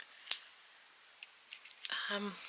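Scissors snip through pink yarn during a crochet bunting project: a sharp click, then a few lighter snips and clicks spread over a couple of seconds, close and quiet, followed by a voice speaking.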